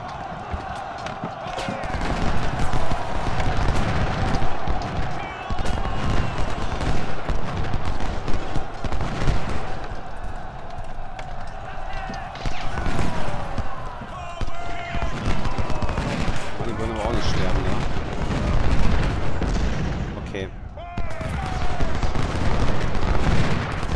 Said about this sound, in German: Kanonen.